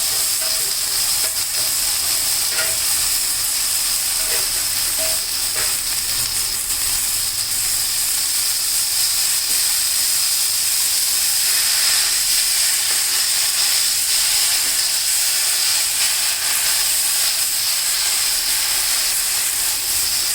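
Kondapindi leaves (Aerva lanata) fry in a pan with turmeric, chili powder and green chilies, giving a steady, loud, close sizzle and hiss that runs unbroken throughout, with faint stirring scrapes and no voices.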